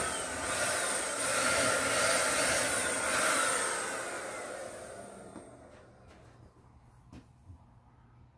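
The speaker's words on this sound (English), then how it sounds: "I've got it turned way down so I'm not spraying a whole lot of" Paint sprayer turned down low, misting paint onto a piece of furniture during a DIY makeover: a steady, fairly loud airy hiss that holds for about five seconds, then fades and cuts out, leaving faint clicks and quiet handling.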